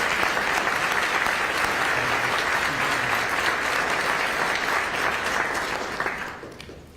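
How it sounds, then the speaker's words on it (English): A school board meeting audience applauds student finalists, sustained loud clapping from many people that holds steady for about six seconds and then tapers off quickly at the end. "if we can get one more round of applause and congratulations to all of our National Merit finalists and commended students."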